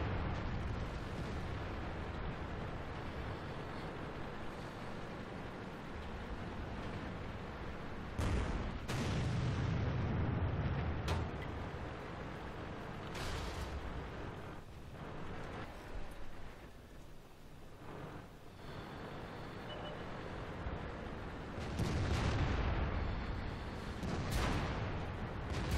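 Tank cannon fire in World of Tanks gameplay: several heavy booms land at irregular intervals over a dense rumbling battle bed, some close and loud, others more distant.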